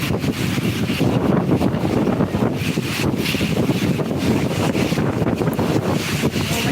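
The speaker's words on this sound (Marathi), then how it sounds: "वारा सुटलेला" Steady roaring wind buffets the microphone, a constant low rumble with gusty surges throughout, close and loud with no voices.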